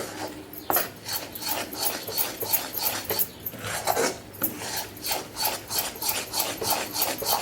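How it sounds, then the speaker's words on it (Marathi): Mysore pak batter of gram flour and ghee being stirred in a pan, a steady series of scraping, rasping strokes repeating roughly every half second, close and fairly loud with no talk. "थोडंसं आपल्याला सोडायचं आणि चांगलंसं आपण मिक्स करून घ्यायचं, हलवून घ्यायचं."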